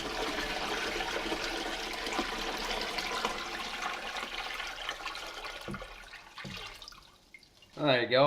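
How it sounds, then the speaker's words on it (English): Tap water poured into a home fish tank that holds decorative stones, a steady rushing splash lasting several seconds before it tapers off and stops. "I'm just gonna put the water into the fish tank"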